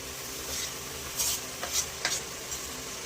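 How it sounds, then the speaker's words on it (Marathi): Tomatoes sizzle in a frying pan for chutney, a steady close hiss with a few soft scraping stir strokes of a spoon across the pan. "आता मी याच्यामध्ये टमॅटो टाकलाय"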